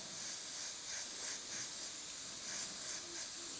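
Airbrush spraying paint onto a monochrome portrait, a faint, soft continuous hiss of air with gentle pulses as short bursts are applied.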